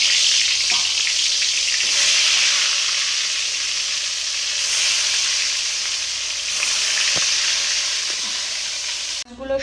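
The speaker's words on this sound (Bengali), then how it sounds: "তেলটা একটু গরম হলে কিন্তু আমি এর মধ্যে মাছগুলো সব ছেড়ে দেবো" Fish sizzling steadily in hot oil in a pan, a continuous close, bright frying hiss with occasional small pops and spatters, no talking.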